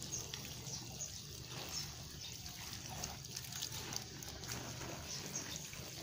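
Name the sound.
watering plants with coffee-grounds water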